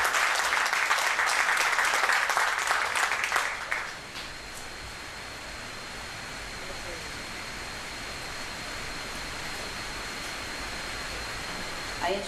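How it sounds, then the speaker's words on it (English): Audience applause rises in a dense burst for about four seconds, then drops to a faint, steady hiss of lingering clapping and room noise for the rest. "applause to Cathleen Williams"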